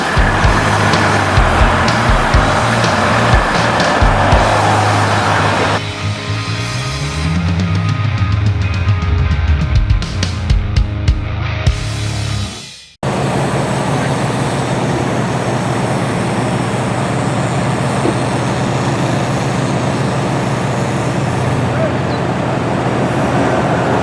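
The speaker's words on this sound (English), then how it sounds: "I'm stuck in traffic right now while they take care of whatever they're taking care of." Road traffic rumbles steadily around a car stuck in a jam on a trip between Virginia and Pennsylvania, with engine drone and passing vehicles. A tone rises and falls midway, followed by a sudden cut and then a continuing even roar.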